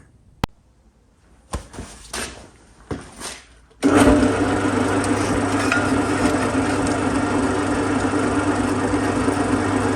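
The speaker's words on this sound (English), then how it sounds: "So first job is getting these holes drilled." A drill bores into steel channel for an anvil build in a workshop, starting at about four seconds with a loud, continuous whine after a few scattered clanks and handling knocks.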